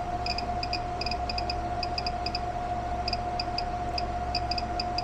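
A REDODO 2000W 12.8V pure sine inverter, overloaded past about 1100 watts, gives off repeated high, thin chirps in irregular short bursts, heard over a steady electrical tone and a constant hiss.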